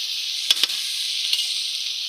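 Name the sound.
broiler chicken pieces frying in a pan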